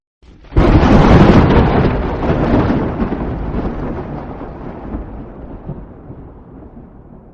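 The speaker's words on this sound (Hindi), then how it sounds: "बहुत तेज से बारिश शुरू हो गई है।" A loud crack of thunder breaks in and rolls on, rumbling and slowly fading over a dense hiss of heavy rain.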